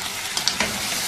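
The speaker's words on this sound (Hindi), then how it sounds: "मिक्स कर लेंगे अच्छी तरह से।" Yogurt and garlic-ginger paste get stirred into sizzling mutton karahi, a steady hiss of frying with a few soft spoon scrapes and splashes over about a second.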